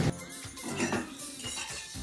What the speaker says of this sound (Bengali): এই তেলটা গরম হয়ে গেছে, আমি সয়াবিনগুলো একটু ভালো করে ভেজে নেব।